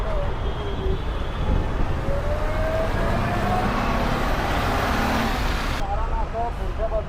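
Traffic jam on a road between Vikhroli and Dombivli after an accident: a steady, loud rumble of engines with intermittent horn blasts and a siren-like wail, and voices talking in the background throughout.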